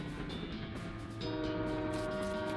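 Steady rumble and rattle of a moving train in the video game West of Loathing, fairly quiet, with a brighter whistle-like tone joining midway and continuing.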